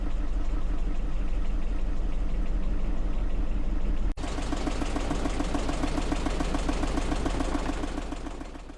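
A sailboat's engine chugs in a steady, rhythmic knock, briefly cutting out, then running a little faster before fading slightly at the end.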